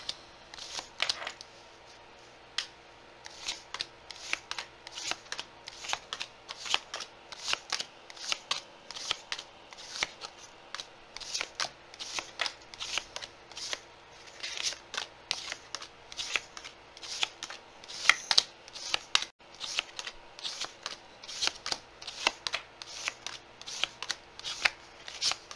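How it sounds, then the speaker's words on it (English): Tarot cards being shuffled and laid down for an astrology reading, a long run of quick papery riffles and soft slaps in an uneven rhythm, close and fairly quiet, with no talking. "this time where I am shuffling and putting down cards"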